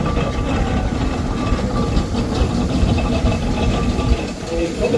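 Challenger, a big showman's steam traction engine, runs steadily at a Cornish traction rally, with a continuous low chuffing rumble and mechanical clatter throughout, loud and close with voices in the background.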